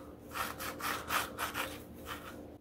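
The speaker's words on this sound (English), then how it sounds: "I mean, that's just straight crispy skin." Someone bites into the crispy skin of a smoked chicken drumstick cooked on a Pit Boss Austin XL pellet grill. Rhythmic crunching and scraping follows the bite, close up and moderately quiet, with no talk.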